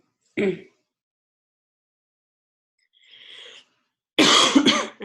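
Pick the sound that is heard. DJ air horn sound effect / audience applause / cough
cough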